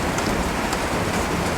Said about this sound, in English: we'll take the rain and the thunderstorms as a good sign spring's getting close